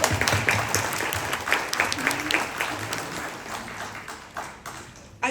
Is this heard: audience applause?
yes